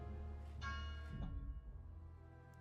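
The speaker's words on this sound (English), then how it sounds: "I hear the bells ringing?" Bells ring out in a video game, a couple of resonant church-like strikes that ring on and decay over a steady low background hum, with no talking.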